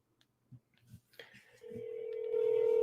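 A telephone calling a landline: a few soft dialing clicks and taps, then a steady, loud ringback tone that swells and holds to the end, with no voices.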